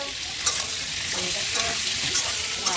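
Pointed gourd (potol) fries with salt in a pan, a loud continuous sizzle broken by scraping stir strokes close to the microphone.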